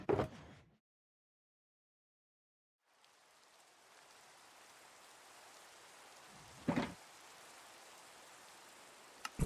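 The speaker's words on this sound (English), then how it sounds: "Rain at 15 minutes into the stream" Steady rain falls in a Minecraft-style video game, a soft constant hiss that fades in after a silent gap, with a couple of short sharp louder bursts.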